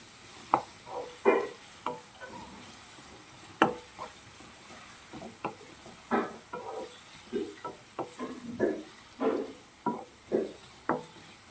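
Shallots and sliced onions sautéing in a pan for a homemade Kerala beef fry, with soft sizzling under a run of irregular scraping stir strokes close by, no voices.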